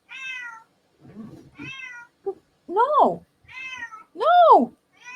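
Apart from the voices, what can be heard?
upset cat meowing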